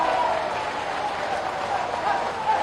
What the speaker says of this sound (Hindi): ऐसी ताली बजाओ कि शिवराज सिंह जी का दिल का ताला खुल जाए।